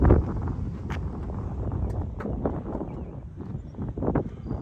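Steady gusting wind buffets the microphone outdoors beside a Stemme S12 motor glider, a continuous low rumble with occasional stronger puffs throughout.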